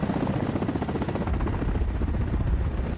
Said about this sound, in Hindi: हेलीकॉप्टर दुश्मन के इलाके में हमले के लिए उड़ान भरता दिखाई दिया।